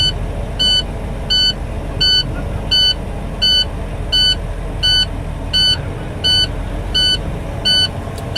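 A truck's air brake low-pressure warning alarm beeps in a steady, even rhythm, about one short beep every 0.7 seconds, over the low rumble of the engine idling during an air brake inspection.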